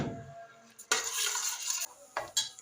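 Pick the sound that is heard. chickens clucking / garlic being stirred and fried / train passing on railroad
garlic being stirred and fried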